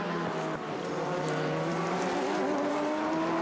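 Race cars at the 24 Hours of Le Mans roar past in a constant, loud wash of high-revving engine noise, one dominant engine note holding steady above a busy background of track sound.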